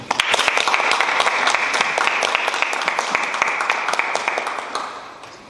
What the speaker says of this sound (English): Give a round of applause for our guest speaker